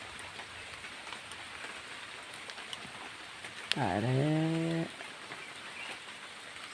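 Steady heavy rain falls nonstop as a continuous hiss, briefly interrupted by a short voiced exclamation in the middle.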